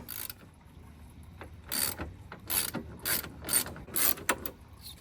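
A ratchet wrench with 12 mm sockets works the radiator bolts loose on an abandoned Subaru, giving several quick bursts of near, crisp clicking that come in uneven runs with short pauses between them.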